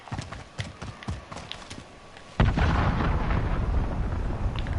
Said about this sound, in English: Allied cruise missile on the way.